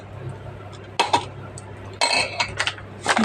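Utensils crush boiled cassava in a pan, making a few separate clinks and scraping knocks, close and moderately loud, over a quiet background hum.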